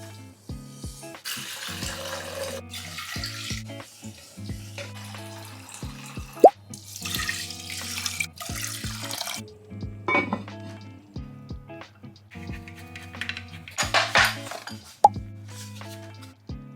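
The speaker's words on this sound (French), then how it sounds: "Et je viens toujours rincer mon riz 2-3 fois." Rice is rinsed in water at a kitchen sink, giving quiet, uneven splashes, drips and light clinks of a pot as the grains are swirled and drained.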